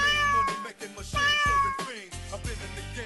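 A cat meows several times in a row, each cry loud and close, with short gaps between the calls.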